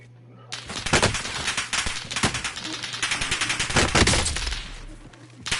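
Rapid bursts of automatic gunfire crackle in a Warzone match, dense volleys firing back to back for several seconds with no pause.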